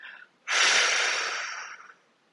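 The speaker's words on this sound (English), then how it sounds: "as you exhale, purse your mouth and exhale loudly" A loud, forceful exhale pushed out through pursed lips, one long breathy rush that fades gradually, close to the mic, preceded by a softer breath.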